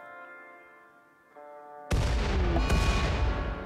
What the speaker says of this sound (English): Oh god, the grenades.